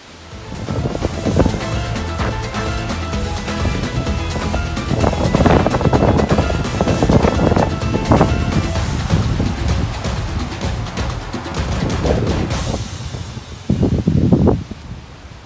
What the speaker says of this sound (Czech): Dnes je větrno tady v Belgii, v evropské čtvrti v Bruselu, v parku